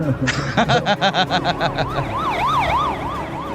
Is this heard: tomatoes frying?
no